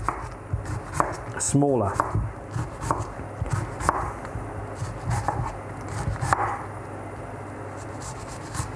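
Knife chopping onion into small pieces on a board for a pasta bake, a steady run of close, crisp blade taps with brief pauses, a voice speaking briefly partway through.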